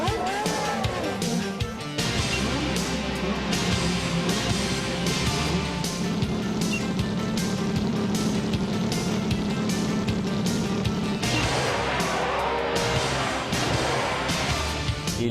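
A V8 engine roars through a futuristic Fuji Formula 1 TV intro, a steady loud mechanical drone sustained across the clip with music-like layering and no speech.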